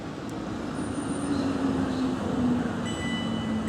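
A South Western Railway train sits idling at a station platform, giving off a low, steady engine rumble and hum with faint high whines. The sound is continuous and fairly close, with no talking.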